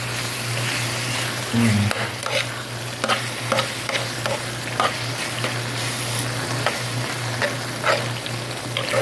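Tomato omelette (tortang kamatis) frying in a pan, a steady close sizzle with soft crackles and a few scraping stirs, a low hum running beneath.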